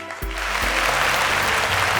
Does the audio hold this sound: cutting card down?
no